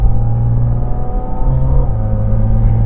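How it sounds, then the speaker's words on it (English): A 2023 Porsche 718 Cayman GT4 RS under way, its engine intake droning loud and close behind the cabin, a deep steady hum with a slight pitch rise partway through, no one talking. "Oh, you definitely get that induction noise right behind you."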